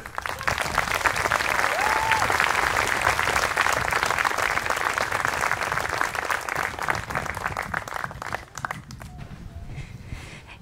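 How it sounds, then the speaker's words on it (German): A congregation at a memorial church service gives warm applause for a guest speaker, steady and full for several seconds before tapering into quieter scattered claps. "Ein warmer Applaus für Jasmin"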